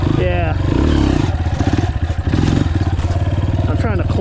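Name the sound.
Yamaha TTR230 motorcycle engine during wheelie attempt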